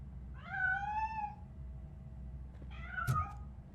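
A cat meows in the Robocop: Rogue City video game: a long, rising-then-falling meow, a short pause, then a second, shorter meow, both clear and close with no talk over them.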